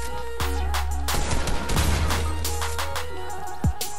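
Rapid bursts of gunfire in the video game Fortnite at Tilted Towers, with several sharp shots rattling in quick succession over a steady game soundtrack, fairly loud and close, no talking.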